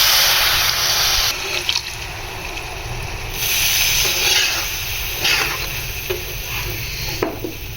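Water poured into a pan of tawa keema cooking with yogurt, a steady loud hissing, sizzling rush with splashy bursts that continues without pause throughout.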